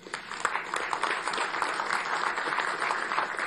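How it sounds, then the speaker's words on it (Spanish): A crowd at a Venezuelan Bolivarian National Guard anniversary ceremony applauds steadily, many hands clapping in a dense, continuous patter throughout. "aquí lo que merece un aplauso."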